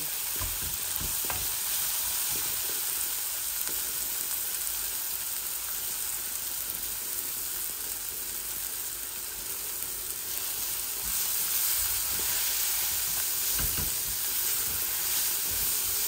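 Chuka leaves frying in a little oil in a pan, a steady, continuous sizzle and hiss throughout with occasional louder crackles, close and alone with no talk.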